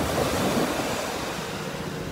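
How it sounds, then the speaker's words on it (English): Ocean waves wash onto a beach under steady wind buffeting the microphone, a continuous broadband roar that stays even and fairly loud throughout, with no voices. "Y'all, we at the beach."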